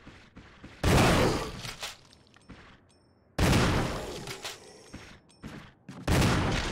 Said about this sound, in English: I just wasted a shotgun shell